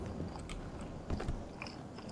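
A character chewing food in the Fears to Fathom video game, with faint, close crunching and biting sounds repeating irregularly over low background noise and no talk.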